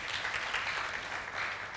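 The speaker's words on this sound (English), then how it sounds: "let's clap for members of management" Applause fills a hall at a college gathering on mental health, a steady wash of many hands clapping together at close range, even in level throughout with no voices on top.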